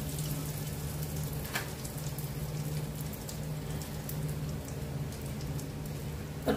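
Asafoetida goes into hot oil already holding fenugreek and nigella seeds on a low flame for radish pickle, giving a soft, steady, rain-like sizzle that stays quiet throughout.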